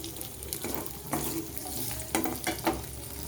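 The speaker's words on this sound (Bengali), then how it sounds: "এবারে আমি একটু হালকাভাবে নেড়ে চেড়ে নেব, যাতে হালকা ভাজাও হয়, একটু নরমও হয়।" Capsicum, green chili and ginger stir-fry in a pan, a soft sizzle running beneath several scraping stirs of the spatula, close and without talk.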